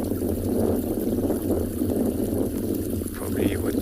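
A safari-park stream in South Africa flows and trickles in a continuous, moderate wash close by, with faint background noise and no clear talk.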